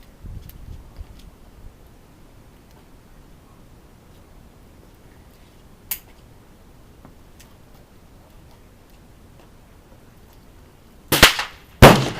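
Gunfire at an outdoor gun range: a single sharp shot, then a long quiet stretch before a quick burst of two or three loud reports near the end, over faint background noise.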